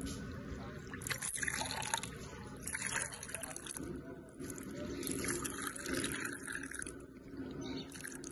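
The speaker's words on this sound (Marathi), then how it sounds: "पाणी असं बाहेर येतंय" Water runs from a home water purifier tap into a glass set below it, a steady close pouring and splashing that carries on for several seconds with no talking.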